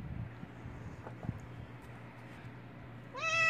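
A small, full-grown cat meows once, a short close call in a quiet room, followed near the end by a louder, rising meow with clear harmonic tone.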